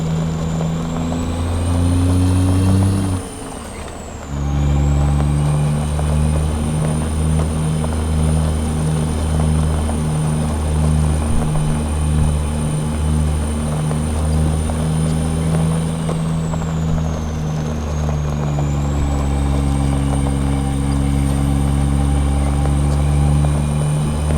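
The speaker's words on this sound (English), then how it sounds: "What a unique sounding engine, you know?" A Cummins Big Cam diesel engine in a logging truck runs on Canadian logging roads, a loud, steady low rumble with strong harmonic drone that dips briefly around a shift, then pulls on continuously with a high whine above.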